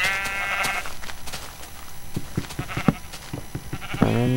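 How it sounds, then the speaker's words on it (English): Sheep bleat repeatedly in the Minecraft Tropicraft mod, several wavering, nasal cries near and fairly loud, mixed with short game clicks and footsteps. "Hello, sheep!"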